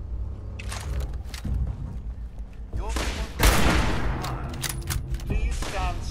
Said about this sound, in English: you pull out a terrible shotgun